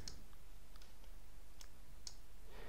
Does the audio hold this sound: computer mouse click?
yes